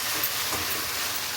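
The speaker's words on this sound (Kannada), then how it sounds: "ಅರಿಶಿನ ಹಾಕ್ತಾಯಿದ್ದೀನಿ. ಸ್ವಲ್ಪ ಫ್ರೈ ಮಾಡ್ಕೊಳ್ಳೋಣ." Turmeric and chilli powder frying in oil in a pan for a Malabar spinach stir-fry, giving a steady close hiss and sizzle that holds evenly throughout without any talk.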